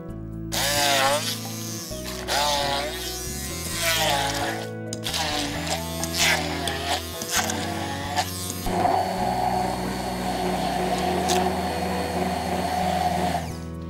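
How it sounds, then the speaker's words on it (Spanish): A kitchen blender whirs steadily as it purees an olive filling with garlic, cumin, smoked paprika and a splash of oil, starting loud right after talk and running continuously to the end. "y vamos a batir"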